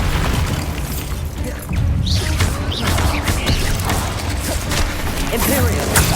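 An explosive spell blast in the video game Hogwarts Legacy makes a dense, roaring boom that carries on as crashing, rumbling noise, with a voice over it in the mix.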